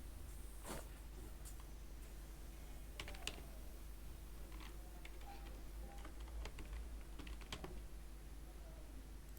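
Typing on a computer keyboard, soft scattered key clicks in short bursts, faint and close, over a steady low background hum with no voices.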